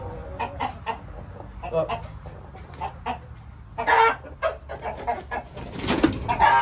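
Brahma and Jersey Giant chickens cluck and murmur in short irregular bursts nearby, with a louder flurry of calls near the end, while a person says a word once.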